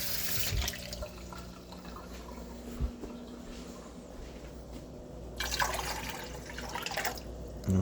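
Hot water runs from a kitchen tap in a steady, soft splash with occasional drips and bumps near a sink, fairly quiet and close, with no speech.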